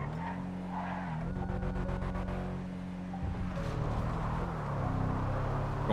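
A car drives through a forest in GTA V zombie mode, its engine droning steadily with shifting pitch and tyre skids, close and continuous.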